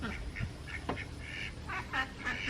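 A Cayuga duck gives a few soft, short quacks at a distance, faint over a low background rumble.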